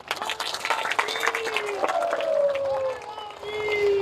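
Crowd at a village political rally claps in a dense, sustained burst, applause steady over several seconds with scattered voices and faint whistling or tonal noise mixed in.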